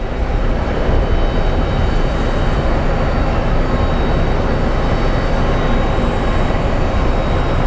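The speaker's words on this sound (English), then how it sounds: "we have a United Airlines taxiing out" A United Airlines jet taxiing out at Phoenix Sky Harbor International Airport produces a loud, steady broadband roar, constant engine rumble with no pauses, close and unbroken throughout.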